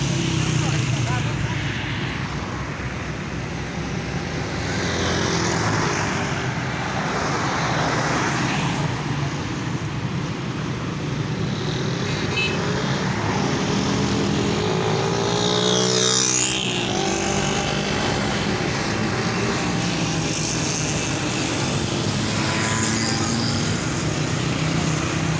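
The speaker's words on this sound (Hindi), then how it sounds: "GT रोड ना, ट्रैफिक दोवां पासे आ जा रही है" Steady roadway noise from traffic moving both ways along the GT Road in Jhelum, a continuous broadband rumble with one vehicle swelling closer and passing midway, alongside speech.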